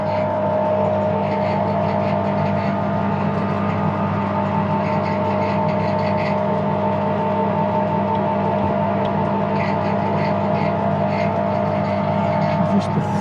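A repaired Edgwick metal lathe running steadily, giving a loud continuous mechanical hum and drone with a faint rattle throughout and no change in pace.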